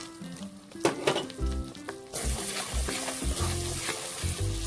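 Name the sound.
poppy seed and cashew paste sautéing on low flame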